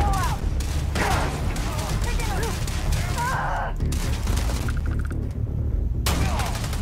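Frag grenade explosion amid rapid gunfire in the Starfield video game, dense sustained shooting and blasts under overlapping voices of players talking.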